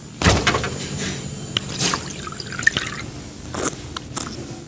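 A Volvic water fountain dispenses water into a glass, with close, soft dripping and trickling splashes in a few brief bursts and no talk over them.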